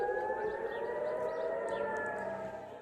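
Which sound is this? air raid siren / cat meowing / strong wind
air raid siren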